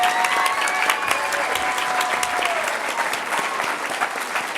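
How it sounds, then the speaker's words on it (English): Sustained audience applause fills an awards ceremony honoring twenty people under forty, steady dense clapping with some cheering over the full stretch, no speech on top. "please join a wild round of applause for all 20 of our honorees."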